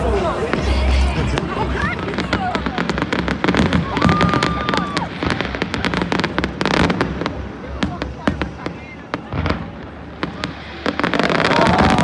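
Fireworks bursting over a crowded late-night street in Limerick: rapid, dense cracks and pops keep going throughout, loud and close, with a babble of people on the street underneath.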